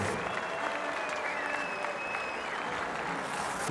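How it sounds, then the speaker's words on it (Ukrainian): Steady applause from a large crowd after a 75 kg bout at the 2017 European Championships, dense clapping filling the whole stretch at an even level. "Наши аплодисменты этому поединку."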